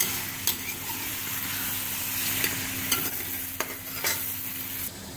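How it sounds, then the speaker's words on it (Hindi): Chicken pieces stirred through ginger garlic paste in a hot pan for Lahori-style chicken nihari, a steady sizzle with scraping spoon strokes and several sharp clinks against the pot, no voices. "चिकन को हम तब तक इसमें अच्छे से मिक्स करते जाएंगे अदरक लहसुन की पेस्ट में"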